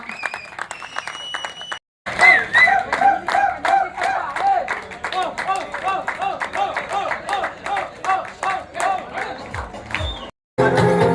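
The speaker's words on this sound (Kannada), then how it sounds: "ಈ ಕಡೆಗೆ ಎಲ್ಲರೂ ಒಂದು ಎದ್ದು ನಿಂತು ಅವರಿಗೆ ಕೈ ಚಪ್ಪಾಳೆ ಕೊಡುವುದರ ಮೂಲಕ ಅವರಿಗೆ ನಾವೆಲ್ಲ ಗೌರವವನ್ನು ಸೂಚಿಸೋಣ" An audience at an annual sports meet in Kundapura claps in a long, dense round of applause with some cheering. It stops briefly near the start and again near the end, then resumes loud and close.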